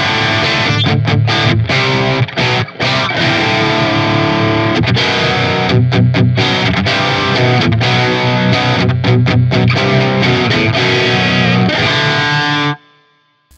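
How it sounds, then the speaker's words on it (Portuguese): Heavily distorted electric guitar played through a Marshall JCM amplifier with plate reverb, dense chugging chords and sustained riffs with brief stops, loud and close, ending in a short reverb tail. "Vamos ligar um reverb aqui. Eu deixei o spring e o plate, acho que eu vou deixar o plate mesmo ligado"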